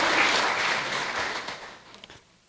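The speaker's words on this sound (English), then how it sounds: "Big round of applause" A conference audience at a nature talk on the ocean's future claps in a dense round of applause that holds steady, then thins out and fades to a few scattered claps.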